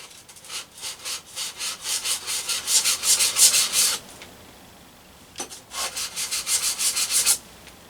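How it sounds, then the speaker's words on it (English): The rusty sole of a Faithfull No. 4 hand plane scrubbed back and forth on an abrasive, making a rhythmic series of close, rasping strokes. A brief pause separates two runs of steady rubbing. "I'll just do a few passes here to get the rust off"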